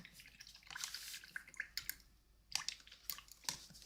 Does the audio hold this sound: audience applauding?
no